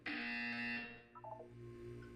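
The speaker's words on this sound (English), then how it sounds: "You will hear a buzzer." A buzzer from the Portal 2 game sounds once, a loud sustained tone lasting under a second before cutting off, followed by quieter tonal chimes and a lingering hum.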